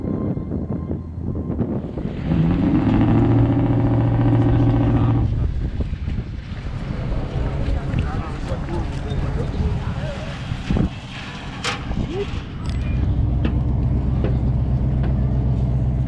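A ferry crossing open water late in the day, with a steady low engine rumble, hull and water rush, and microphone wind buffeting, plus a few brief tonal bursts and clanks along the way.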